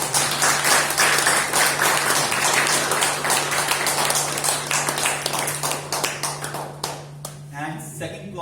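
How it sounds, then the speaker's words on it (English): Loud, dense applause from a meeting audience of a stammering support group, sustained clapping filling the room for several seconds before thinning out into scattered claps at the end. "let's make a round of huge applause for ourselves"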